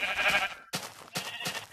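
A Minecraft cow being struck gives short bleating, lowing calls, three quick cries in a row that sound close and clear.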